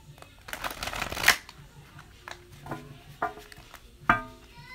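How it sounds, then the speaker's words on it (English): A deck of tarot cards is shuffled by hand in a few quick riffling bursts with soft taps between them, close and fairly quiet, while a person talks. "I hear one more shuffle this way."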